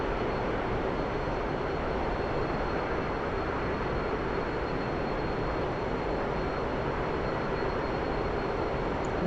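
An F-15EX jet engine roars steadily at full power and eases back out of afterburner in the DCS flight simulator, a loud broadband rush that holds constant throughout with no talk.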